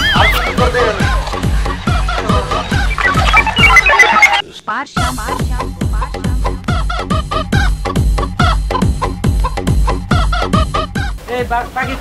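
Chickens, including Pakistani, local desi, Noakhali, Barishal and Pabna breeds, cluck loudly and close in a rapid, regular rhythm with a short break partway through, mixed with voice-like sounds.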